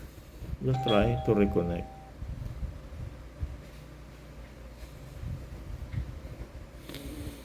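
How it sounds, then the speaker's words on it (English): A Xiaomi Smart Video Doorbell 3 chime rings out near the start as a bright melodic ding-dong, followed by quiet room noise, soft handling sounds and a short spoken remark. "That's the doorbell."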